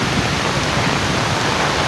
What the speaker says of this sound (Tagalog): Grabe yung lakas na bagyo ito.